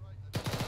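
A .50 caliber machine gun mounted on a technical vehicle in a military video game bursts into heavy rapid fire after a low engine hum, with the rounds thudding in quick succession.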